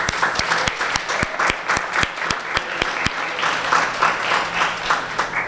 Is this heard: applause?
yes